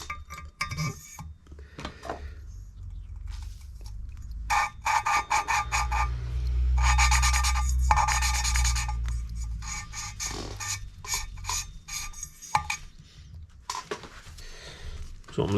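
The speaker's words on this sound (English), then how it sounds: "That's what I'm listening for. Is a smooth consistency. Not really a grinding, but more of a polishing sound." Valves being lapped into the cylinder head of a 1980s Kawasaki KZ400J engine, a steady rasping, polishing scrape in repeated bursts, up close, with talk around it.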